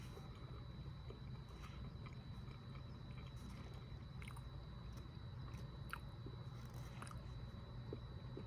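Close, wet chewing of Iberia sardines in hot tomato sauce with chili powder on a cracker, soft squishy bites and small crunches of bone going on steadily with no talk.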